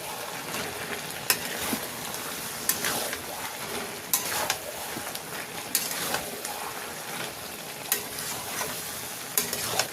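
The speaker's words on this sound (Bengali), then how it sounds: "ভেজে রাখা চিংড়ি মাছটা দিয়ে দিচ্ছি ওপর থেকে, দিয়ে আবারও ভালো করে নেড়ে দেবো।" Water lily stem curry with fried prawns being stirred in a pan, with a continuous sizzle broken by repeated sharp scrapes and clinks of a spatula against the metal at irregular intervals.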